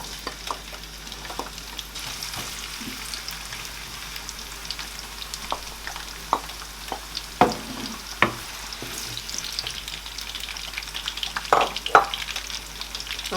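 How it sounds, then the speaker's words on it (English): Onions frying in hot oil, a soft continuous sizzle with scattered sharp clicks and scraping knocks from stirring in the pan, fairly quiet and close. "I'm going to add onions in the oil."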